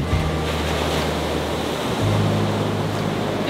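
Ocean surf near a sailboat rolls as a steady broadband wash with wind buffeting the microphone, a low drone shifting partway through, and no voices.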